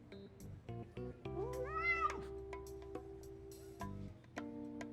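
A cat meows in the Love and Deepspace video game, a few rising, drawn-out mews over soft game music and ticking, fairly close and clear.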